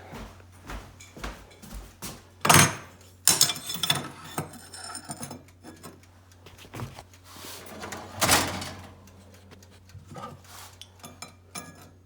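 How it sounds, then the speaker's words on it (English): A series of clunks, clicks and metallic rattles from a toaster oven door being handled, with several louder bangs, fairly close and without speech. "let's go put this in my high-tech tempering toaster oven"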